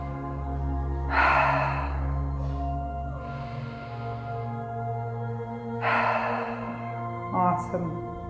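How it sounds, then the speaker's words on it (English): Deep, airy breaths during a yoga class: slow inhales through the nose and whooshing exhales through the mouth, three breathy swells spaced several seconds apart over a low steady background hum. "Those are 3 cleansing breaths."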